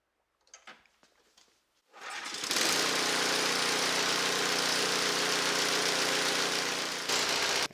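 A Honda snowblower engine just after a tune-up, with a few faint clicks before it fires at about two seconds, then runs at a loud, steady idle close by for the rest of the clip before dipping slightly near the end.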